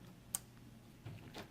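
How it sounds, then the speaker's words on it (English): One sharp, faint click from an electrical relay switching on, followed by a couple of softer ticks, in a quiet room. "That clicking sound is the relay."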